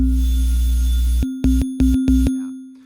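A sustained synth tone with a steady low drone, then four short resonant hits in quick succession, each cutting off sharply, ringing with a bright metallic body.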